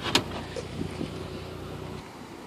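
A 2009 Saab 9-3 Turbo convertible's power top retracts with a steady electric motor whine and a sharp mechanical clunk near the start, running evenly for a couple of seconds before easing off.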